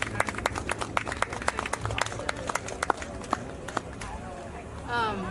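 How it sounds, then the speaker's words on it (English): Audience members at a Black maternal health panel give sparse, uneven clapping, a scattering of distinct sharp claps that taper off, with a voice briefly speaking near the end. "clap for our sister"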